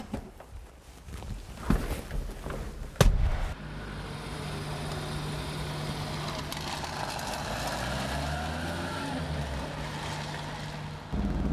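A classic Vauxhall HB Viva 1100 starts with thumps and a clunk, then settles into a steady, close engine drone with a constant low hum as it is driven, and the pitch shifts slightly near the end.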